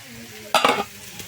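Shrimp hitting hot oil in a pan, a short burst of loud sizzling and stirring clatter that rises abruptly, then settles back to a low fry.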